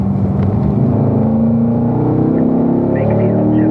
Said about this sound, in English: Do the downshift to third gear here.